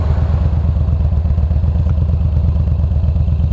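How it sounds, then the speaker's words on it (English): A motorcycle ridden on the road during a daily commute, its engine droning loud and steady up close with a dense low rhythmic pulse throughout and no talking. "especially riding on a motorcycle."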